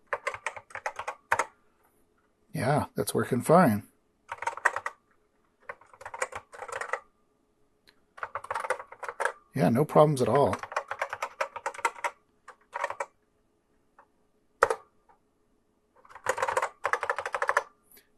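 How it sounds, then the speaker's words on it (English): Bursts of rapid typing on a vintage Apple keyboard with clicky keystrokes, separated by pauses, while someone speaks briefly in between. "let's just do a quick keyboard test"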